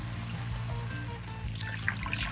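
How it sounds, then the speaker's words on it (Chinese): Water pours steadily into a pot of pork trotters braising with ginger and yellow wine, a continuous close trickle and splash with a low hum underneath. "然后加水"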